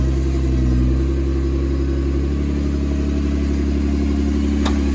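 An off-road vehicle on a muddy creek trail drives with a steady, close mid-range engine drone and slight rev swells, continuous throughout with no talk.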